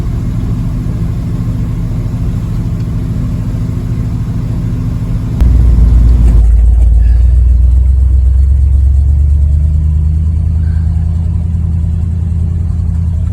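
A GMC 6500 truck engine idles with a steady rumble, then the note drops and deepens into a louder, heavy low drone as the truck pulls off on a gravel run. No one speaks.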